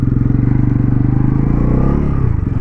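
A 2024 Bajaj Pulsar NS400Z in road mode with traction control on pulls away in first gear, its engine thrumming loudly and close with a steady pulsing beat that shifts pitch near the end.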